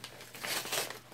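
A cardboard tarot card box torn open by hand, a quick run of papery ripping and crinkling bursts over about a second, close and fairly loud, with no talk.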